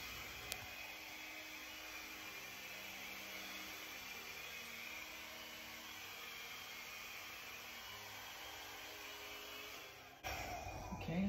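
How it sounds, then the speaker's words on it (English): A hairdryer blows steadily across wet paint with cell activator on a serving tray, a continuous even whooshing hum held close, ending with a louder change as the airflow shifts near the end. "you want your hairdryer on an angle behind where the cell activator is going to start blowing"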